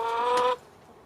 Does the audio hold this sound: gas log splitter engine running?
no